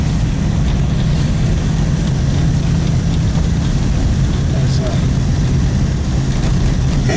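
A truck drives on a snowy road during a snowstorm, a loud continuous engine rumble and road noise heard from inside the cab.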